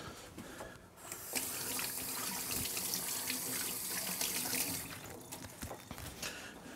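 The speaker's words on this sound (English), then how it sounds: "Right, wash your hands." Hands washed under a running kitchen tap, a steady close rush of water that swells loudly in the middle, then breaks into splashes and drips as the flow changes, with no talk.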